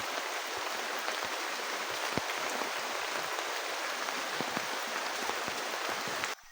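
Dense, heavy rain pours steadily on a riverside campsite with a constant wash of drops and patter, close and loud, cutting off abruptly at the end.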